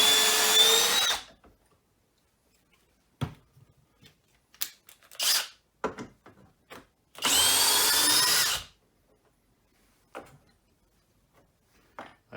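Skil 12V brushless drill or Milwaukee Fuel Gen 2 driving a fastener, heard as two loud sustained whirring bursts, about a second each, separated by quiet gaps with scattered clicks and handling noises.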